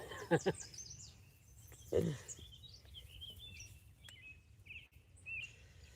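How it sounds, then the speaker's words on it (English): Faint, brief yellow warbler chirps and a short whistled song phrase drift over soft creekside ambience, with a couple of louder rustling bursts near the start. "Yellow warbler above you sounds like sweet, sweet Canada sweet."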